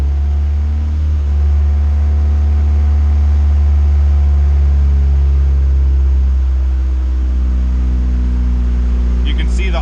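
A tuned Honda CRX engine runs at a steady, deep, close idle with a strong low hum. The note drops slightly partway through, and brief faint sounds come near the end.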